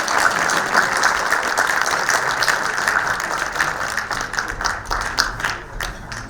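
Steady applause from an audience at a Korean healthcare forum fills the room, dense clapping that holds strong before thinning slightly toward the end.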